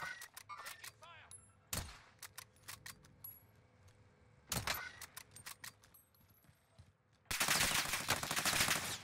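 Gunfire in the video game Warzone from an Armaguerra 43 submachine gun: sharp single shots and short bursts, then a loud sustained automatic burst near the end, with game sounds around them.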